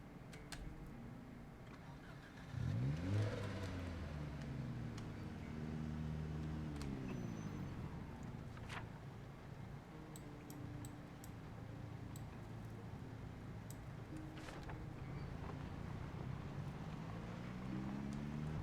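A trashed car with its check-engine light on, driving in the video game Project Zomboid: a low, steady engine drone that rises after a couple of seconds and carries on with shifting revs.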